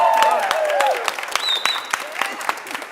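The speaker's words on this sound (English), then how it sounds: "Please give a big round of applause" A church congregation at a Sunday morning service gives a short round of applause for violinist Lisa Ho, with scattered, uneven claps thinning out after a voice at the start.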